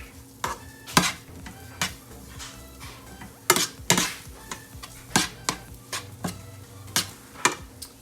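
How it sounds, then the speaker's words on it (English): Ginger and seasonings are stirred in a pan over a low burner, a spoon scraping and clicking against the pan in irregular strokes with a soft sizzle underneath, close and alone. "And then I'm just going to stir it up"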